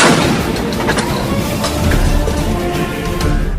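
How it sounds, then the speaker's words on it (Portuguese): Cannon fire in a dramatized battle defending a Brazilian fort, with dense, continuous booming blasts and rumbling reports filling the whole stretch, loud and close, with no clear pauses between shots. "Atirem neles com o canhão, atirem agora!"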